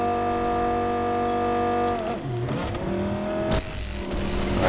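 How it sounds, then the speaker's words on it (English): A car in an open-world driving game (Badlands area) with a steady engine drone that dips, then revs upward as it accelerates, loud and close, with no talk over it. "let's step on the gas"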